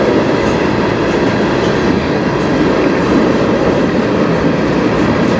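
A CN freight train rolls past with a steady, loud rumble and continuous rail noise, unbroken throughout.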